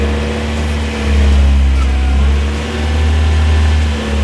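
A car engine revs repeatedly in slow swells, a deep close rumble rising and falling about every second and a half over a steady idle, with a voice speaking faintly in the background.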